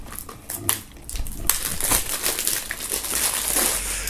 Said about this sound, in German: Bonus-EP plus Album müssen wir hier auch noch rausholen, endgültig aus der Folie befreien